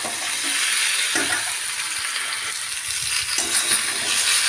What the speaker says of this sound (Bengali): এখন এইগুলোকে একসাথে সবগুলোকে নাড়াচাড়া করে আমি ভেজে নেবো